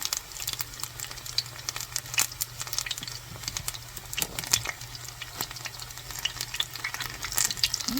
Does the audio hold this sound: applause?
no